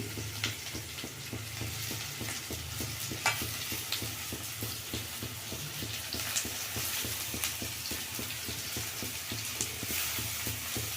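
Leafy greens, a mix of sabbakki, aravi and chilkarvi soppu, fry in a pan with a steady sizzle while a spatula stirs in quick, regular scraping strokes throughout.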